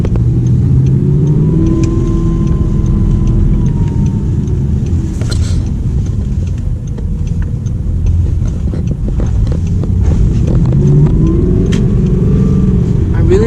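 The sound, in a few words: Audi R8 V8 engine accelerating, throaty and loud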